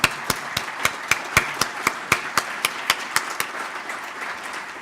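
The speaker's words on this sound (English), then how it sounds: "I'd like to just go ahead and give a round of applause recognizing" An audience at a closing-remarks session claps in a round of applause, a series of sharp, evenly spaced claps at moderate volume that stay distinct and gradually soften.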